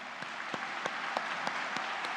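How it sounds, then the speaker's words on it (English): Faint, distant claps ring out at the University of Manitoba spring convocation morning ceremony, about seven evenly spaced beats in a slow, steady rhythm over a quiet hall. "For many of you, applause will be an appropriate response."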